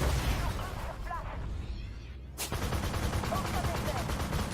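Rapid tank cannon fire from an XM800T in the Armored Warfare video game, with repeated sharp shots and a loud blast near the middle, all over a constant rumbling game background.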